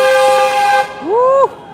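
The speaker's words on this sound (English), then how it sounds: "Oh, the bus's honk is pretty loud." A loud bus horn blares close by. It gives one long sustained honk, then a shorter second honk that bends in pitch. A voice can be heard around the horn.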